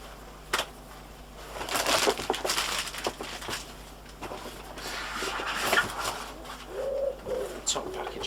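Packaging being pulled off the top of an Ooni Koda 16 gas pizza oven: close, irregular crinkling and rustling bursts with a few sharp crackles, steady handling noise throughout.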